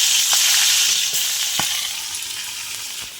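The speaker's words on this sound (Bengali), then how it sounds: "মাছের মাথাগুলো ভেজে নেবো" Fish heads sizzle and crackle steadily in hot oil, a close, continuous frying hiss with small pops and stirring scrapes, no voices.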